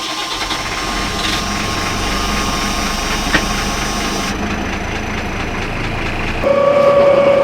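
A steady mechanical boat engine drone runs throughout, growing slightly louder near the end as a higher whine comes in.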